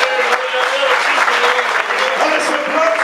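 A church congregation claps in a full, continuous burst, loud and close, with a few voices faintly mixed into the applause.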